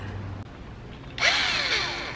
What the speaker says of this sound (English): Oh no, not me with a power drill again.